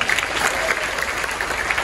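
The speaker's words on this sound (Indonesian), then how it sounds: "Tepuk tangan dulu udah alik-alik." Audience applause at a performance of classical Balinese Arja opera at an arts festival in Denpasar, a steady wash of clapping hands held throughout at moderate volume with no voices over it.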